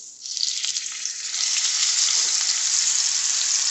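Steak searing in a very hot cast iron pan, a loud steady sizzle that swells as the meat settles and then holds a bright hiss without any talking.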